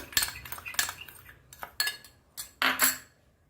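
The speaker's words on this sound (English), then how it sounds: "Now let's mix this nicely." A metal spoon clinks and scrapes against a bowl while mixing tuna salad, making a run of sharp, close taps and stirring scrapes in irregular bursts, with no talking.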